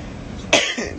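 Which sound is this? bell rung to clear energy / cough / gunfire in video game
cough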